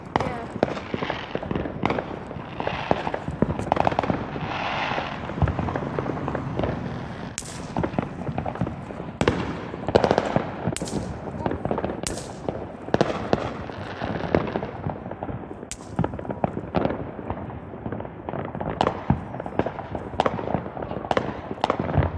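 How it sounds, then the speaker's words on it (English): Fourth of July fireworks and firecrackers pop and boom around a residential neighborhood, with many irregular bursts near and far throughout while people talk over them. "you know you're missing big fireworks around the neighborhood, right?"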